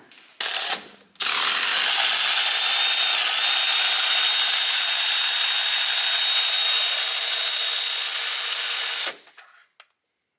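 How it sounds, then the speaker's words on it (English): A ratcheting socket wrench backs a spark plug out of a 2016 Subaru Legacy 2.5. It makes a brief initial burst, then a steady, dense, loud ratcheting whir for about eight seconds that stops abruptly. "we took the spark plug and backed it out"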